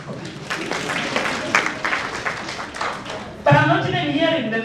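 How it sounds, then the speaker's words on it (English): Conference audience claps in a scattered, moderately loud burst lasting a few seconds, then a voice speaks over the fading applause. "They're even clapping for us."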